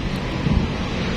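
Water waves and wind at Manila Bay, a steady broadband rush with wind buffeting the microphone and a brief low swell, close and continuous with no talk.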